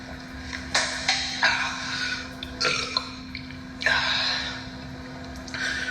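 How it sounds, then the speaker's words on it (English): A man belches loudly several times in quick succession after gulping a reddish drink, the burps close and sharp with a steady low hum underneath. "He gulps a reddish-colored drink, belches, then says,"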